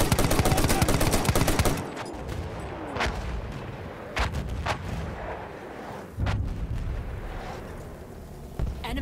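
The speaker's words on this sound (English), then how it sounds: "The enemies are being halted by our artillery barrage." Artillery barrage in the game Battlefield 1, a dense roll of heavy booming blasts for the first two seconds, then scattered loud impacts and gunfire bursts over a rumbling battlefield background, with no talking.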